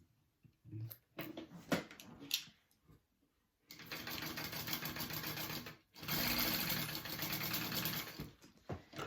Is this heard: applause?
no